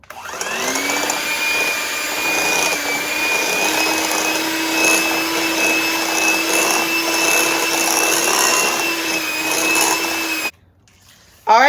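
An electric hand mixer on medium speed beats buttermilk pie filling with flour into a creamy paste, a loud steady motor whine running for about ten seconds before cutting off abruptly.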